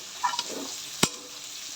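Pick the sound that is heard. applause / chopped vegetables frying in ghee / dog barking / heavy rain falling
chopped vegetables frying in ghee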